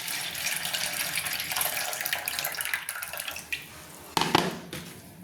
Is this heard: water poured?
yes